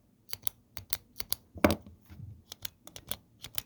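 Zebra F-301 ballpoint pen with a cut-down, stretched spring clicking repeatedly, sharp close ticks in an uneven rhythm with a slightly muffled, dampened quality.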